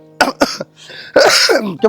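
A person coughs twice in quick succession, then a harsher, throaty cough follows, close and loud.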